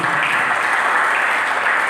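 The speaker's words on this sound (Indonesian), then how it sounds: "Berikan tepuk tangan bagi" A steady wash of applause from a large church congregation, thick and continuous, with no individual claps standing out.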